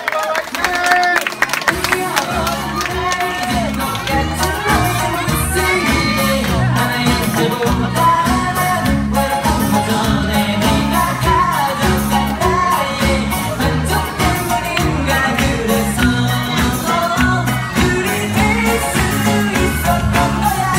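Audience at a kindergarten arts festival claps warmly as young children leave the stage, dense continuous applause mixed with cheering and music, loud and steady throughout with a host's voice over it.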